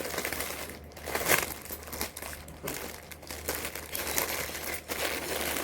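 A delivered package holding a dress is opened, with close, continuous plastic crinkling and crumpling plus brief tearing, steady throughout and with no talk.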